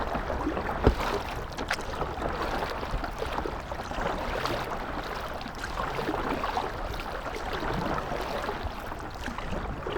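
River rapids rush in a dense, steady roar around a stand-up paddleboard on a high-water river run, with wind buffeting and a single sharp knock early on.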